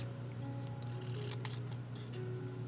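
Leftover paper being trimmed with scissors for a junk journal, a few soft close snips and paper rustles over a quiet steady background hum, no voices.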